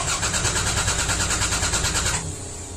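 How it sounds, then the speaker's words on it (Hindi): A car engine cranks over and over with the key but never catches, a steady churning whir that cuts off abruptly near the end, close and loud. "श्रवण ने कई बार चाबी घुमाकर गाड़ी को स्टार्ट करने ट्राई किया, परंतु गाड़ी चालू होने का नाम ही नहीं ले रही थी"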